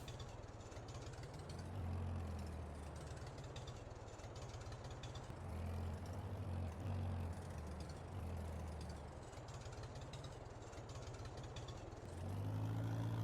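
A tractor engine in Farming Simulator runs steadily for the whole stretch, a low droning rumble that rises and falls slightly in load, quiet and continuous with no talking.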